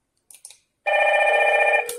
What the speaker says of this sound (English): All three screens ringing, exactly what we wanted.